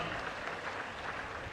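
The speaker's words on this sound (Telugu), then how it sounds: "గట్టిగా చప్పట్లు కొట్టి బాగా చేసిన దానికి అభినందిద్దాం" Hall audience applauds during the Andhra Pradesh chief minister's public speech in Madugula, giving a brief, even wash of clapping that sounds distant and fairly soft.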